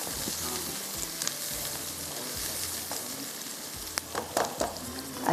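Onions sizzle and fry steadily in hot oil as they brown for mutton masala, with a dense crackling hiss and occasional stirring scrapes, close and continuous.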